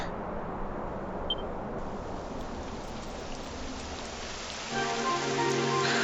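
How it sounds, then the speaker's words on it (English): Steady rain falls in Dragon Quest XI, a dense, even hiss of droplets pattering across a surface, holding constant throughout with a slight swell in intensity near the end. "Typical. It would have to go and start raining, wouldn't it?"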